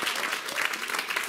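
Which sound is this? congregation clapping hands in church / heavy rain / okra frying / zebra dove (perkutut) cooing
congregation clapping hands in church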